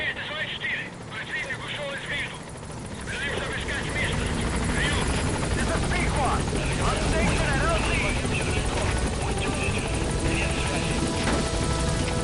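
A helicopter in Metal Gear Solid 5 drones steadily with a whirring rotor and buzzing engine, growing louder after a few seconds and holding for the rest of the stretch, with game sounds and voices mixed over it.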